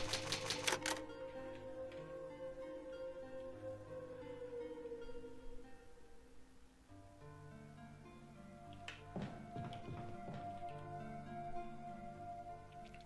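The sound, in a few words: typewriter saving the game in Resident Evil HD Remaster video game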